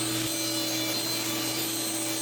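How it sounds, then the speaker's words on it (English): A table saw rips a wooden board into strips, a steady loud whine of the blade cutting through wood, heard alone without talk. "Now I'm going to go ahead and rip this into strips."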